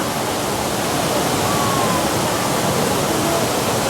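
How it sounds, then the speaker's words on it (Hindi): Water pours down inside the large indoor hall waterfall at Changi Airport in Singapore, a steady, full broadband rush that stays loud and even throughout with no breaks or voices. "ये एक बड़ा सा हॉल जहाँ से पानी गिर रहा है, नीचे गिर रहा है।"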